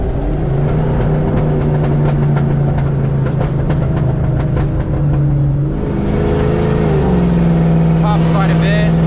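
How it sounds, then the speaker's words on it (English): Loud race truck engine idling and revving with sharp, rapid exhaust pops crackling in bursts, close by. "I love the pops. I love how loud they are. I love the exhaust."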